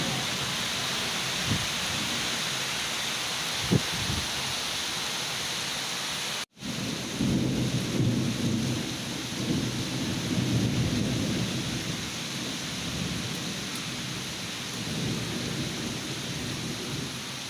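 Heavy rain pours down steadily for the whole stretch, with a few low rumbles of thunder in the first seconds and a brief sharp break midway.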